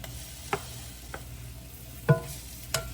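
Ackee and saltfish are tipped into peppers in a pan and stirred, giving a quiet background sizzle broken by a few soft scrapes and clinks of a spoon.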